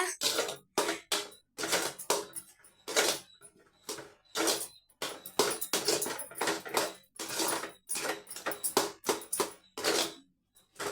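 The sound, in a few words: stirring food in a pan with ghee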